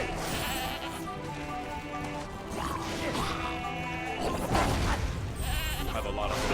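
Goats bleat in the Skylanders video game, several short wavering cries over busy game music and clattering effects, with people talking throughout.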